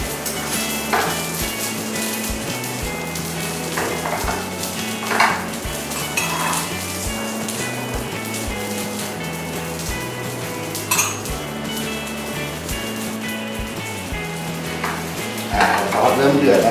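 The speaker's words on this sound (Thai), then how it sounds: "ซอสเริ่มเดือดนะครับ" Sauce coming to a boil in a pan for a sea bass dish, a soft continuous bubbling sizzle with occasional clinks of utensils against the cookware, heard beneath faint background music.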